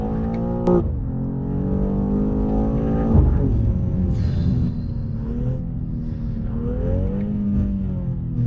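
A 2023 BMW M2 engine in Sport Plus mode hums and rises in pitch, dipping and climbing again as it shifts through third and second gears, steady and fairly loud.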